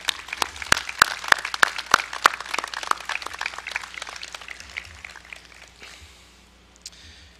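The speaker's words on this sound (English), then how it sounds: "let's take a round of applause for our first responders" Scattered applause at an outdoor September 11th commemoration honors first responders, with sharp individual claps close by at first, then a thinner, softer patter that fades out.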